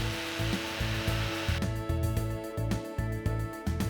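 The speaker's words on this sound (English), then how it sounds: "So you can mark that off and cut with your jigsaw." A jigsaw cuts through 12 mm wooden dowel sticks, a close, loud, steady buzzing whine with a rapid pulsing chop as the blade bites, running continuously without talk.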